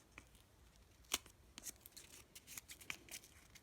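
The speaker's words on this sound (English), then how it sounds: "get your pair of scissors, and this corner where it's open, you're just going to kind of cut it and make it curved" Scissors snip through folded craft paper to round off a corner for a paper butterfly, giving a quick series of crisp, close cuts with one sharper snip amid light rustling.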